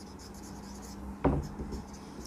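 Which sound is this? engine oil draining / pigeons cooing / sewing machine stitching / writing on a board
writing on a board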